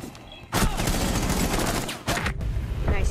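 Rapid automatic gunfire in Rainbow Six Siege bursts loud and close in two sustained volleys, briefly cut by a short gap, with faint game ambience before the shooting starts.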